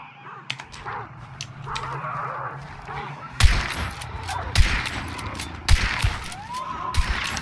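Gunshots in a hunting video game sound several times as sharp, loud cracks at irregular intervals over a steady background of game ambience. Faint chatter runs underneath.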